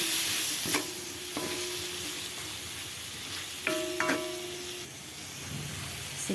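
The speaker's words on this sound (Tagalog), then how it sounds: "Haluin natin." A seasoned dish seasoned with black pepper and salt, frying in a pan, a constant hiss with several sharp metallic scrapes and clanks of stirring, close and steady, no voices.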